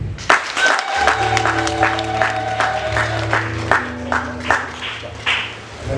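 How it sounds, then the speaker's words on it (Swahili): Applause at a church service for the anointing of pastors in Tanzania: a burst of crowd clapping with irregular sharp hand claps over sustained keyboard or organ tones, lasting throughout. "Makofi."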